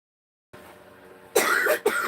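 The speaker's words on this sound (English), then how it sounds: "cough." A person coughs twice in quick succession, close and fairly loud, after a stretch of quiet room tone, with no talking.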